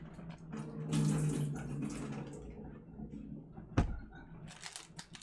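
A kitchen tap runs in a steady, soft rush that swells for a second or two and then thins out. It stays faint throughout, and one dull knock sounds partway through.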